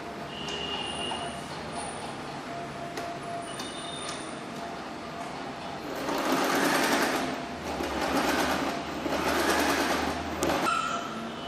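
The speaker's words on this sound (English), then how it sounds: "we are going to give a stitch at the edge of the fabric again. So now we'll stitch it." A sewing machine runs a line of stitching along the edge of fabric, its steady mechanical whir swelling louder in the second half, up close with no speech.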